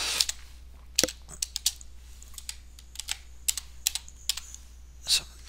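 Quick, irregular clacking of keys on a computer keyboard, close and fairly quiet, with short bursts of keystrokes spread across the moment while a slide is being renamed in presentation software.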